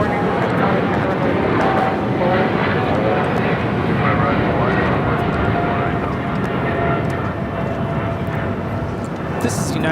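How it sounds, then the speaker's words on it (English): A United Airlines Boeing 777-200ER takes off at Los Angeles International Airport, its engines a loud, sustained roar that holds steady and dense for the whole stretch. The spotters stay quiet throughout. "1396 taking off to Newark on the 777-200 ER."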